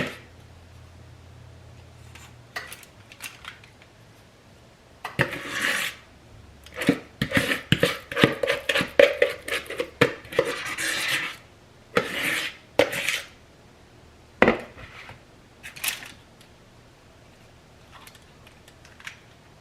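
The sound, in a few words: spatula scraping banana bread batter in a pan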